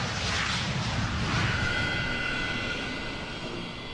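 A McDonnell Douglas DC-10 jet airliner, 17 years in service, in flight, heard as a steady broadband engine roar that fades slightly toward the end, with no voices.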